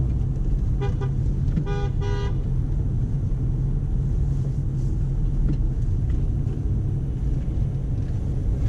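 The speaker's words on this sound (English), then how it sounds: "The driver horns at us." A car sounds its horn at a learner driver on a road near a roundabout, giving a short toot and then two quick honks close together, over the steady rumble of the car's engine and road noise.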